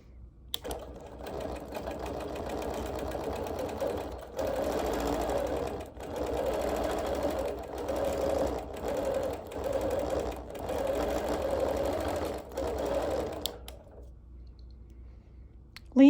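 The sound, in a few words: sewing machine doing background quilting on appliqué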